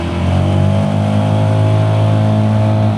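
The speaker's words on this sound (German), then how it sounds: "der Sound von dem Auspuff gefällt mir wirklich gut" A Lambretta G350 scooter's original exhaust gives a steady, throaty, close engine drone with a slight swell in the middle, on its own with no talking.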